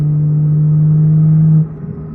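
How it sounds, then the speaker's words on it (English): Toyota Supra MK5 engine fitted with a T51R turbo holds a loud, steady drone, then drops off sharply near the end. "Bro, it sounds like I got a big turbo."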